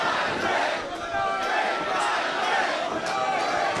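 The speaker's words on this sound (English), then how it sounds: "This crowd chanting for him to beat Everynite brick by brick." A wrestling crowd at an ESW show chants and roars loudly and steadily throughout, a dense wash of voices with rhythmic swells in the chant.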